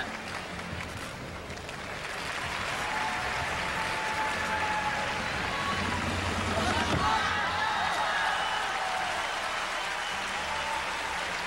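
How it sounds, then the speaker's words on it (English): Applause from the arena crowd at the 2003 World Gymnastics Championships men's team final, which swells after a quieter start into sustained, distant clapping and cheering while a commentator talks over it. "It's just simple applause and respect for what they just saw"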